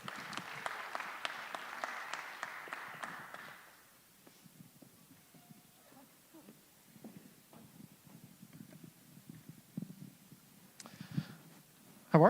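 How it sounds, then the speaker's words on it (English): Panel-forum audience applause rings out loudly for about three and a half seconds as guests come onstage, then dies away into quiet footsteps, shuffling and faint stage movement. "Give them a round of applause."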